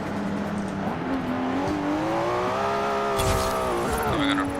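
A race car with an 800-horsepower engine in a driving video game, its engine droning steadily and rising in pitch through bends, with a brief tyre squeal near the end, loud and continuous.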